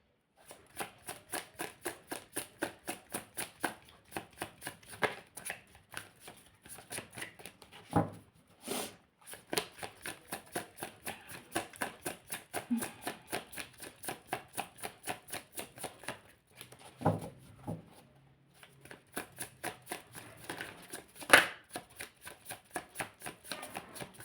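Tarot cards are shuffled by hand in a long run of quick, crisp riffling bursts, close and fairly faint, with brief pauses between bursts and no talking over them.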